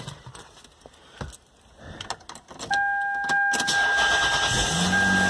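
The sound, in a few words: car engine starting after the key is turned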